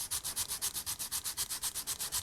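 Sandpaper rubs back and forth on a Scaleauto Formula slot car's chassis cradle in quick, even strokes, roughly eight per second, close and alone.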